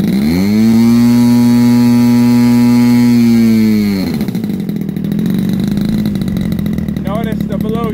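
A Moki 1.8 radial engine on a model airplane runs loudly and close, holding a steady high-rpm tone before dropping to a rougher, lower running note with a brief rev near the end.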